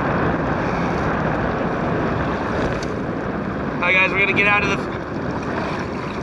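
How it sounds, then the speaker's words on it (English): Strong wind gusts over the Wind River while a boat is out fishing for spring Chinook, producing steady, loud rumbling buffeting against the microphone, with someone speaking briefly over it. "get out of the freaking super windy water right now."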